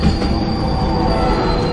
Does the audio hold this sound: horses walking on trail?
no